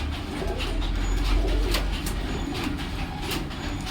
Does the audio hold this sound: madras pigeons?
yes